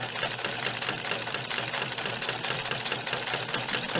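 A Necchi Supernova sewing machine stitching a buttonhole, a rapid, even mechanical chatter that runs steadily throughout at moderate volume.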